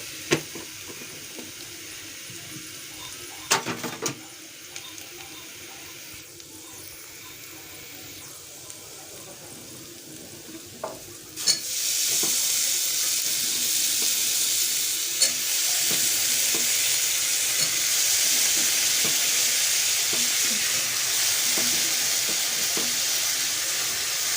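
Cluster beans and potatoes, soaked in water, going into cooked masala in a pan: quiet stirring clicks at first, then a sudden loud steady sizzle that carries on to the end.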